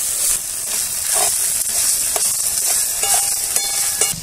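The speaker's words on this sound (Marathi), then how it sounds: "मसाला चांगला केलास परतून दे" Masala fries and is stirred in oil in a pan for a traditional village chicken rassa. A continuous hissing sizzle carries scattered scraping and clinking stir strokes throughout.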